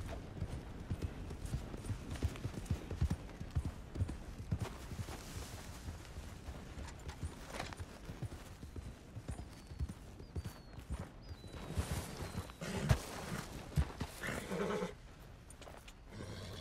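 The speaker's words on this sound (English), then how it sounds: "Either way, you're going to need to find a horse." Horse hooves clip-clop steadily in the video game Red Dead Redemption 2, a continuous rhythmic gallop under wind and ambient game noise, with a horse whinnying partway through.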